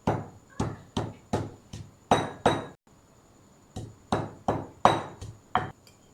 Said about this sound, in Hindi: तब तक हम रायते के लिए चटनी पीस लेते हैं।